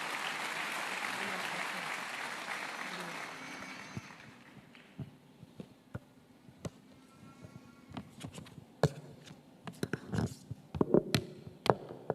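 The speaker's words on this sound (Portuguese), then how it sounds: "Aplauda ao Senhor pela vida desse servo de Deus." A church congregation applauds loudly for a few seconds, then the clapping thins out into scattered, isolated claps as the room quiets.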